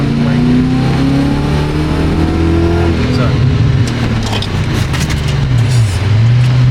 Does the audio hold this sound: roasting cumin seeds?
no